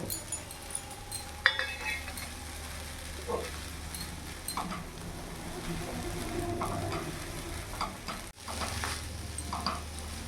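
Sabudana pulao stirred in a pan, a faint low sizzle with light scraping and an occasional small clink of the spoon against the pan, no talking.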